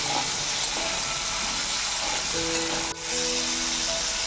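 Small pond crabs fry lightly in a pan while being stirred, a soft continuous sizzle with a brief clatter near the middle, no speech.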